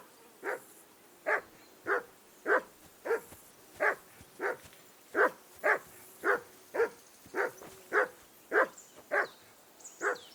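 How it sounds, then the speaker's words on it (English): A dog in the video game Kingdom Come: Deliverance II barks over and over, about sixteen sharp, evenly spaced barks at close range with no talking. "whistle at that mutt of yours to stop barking"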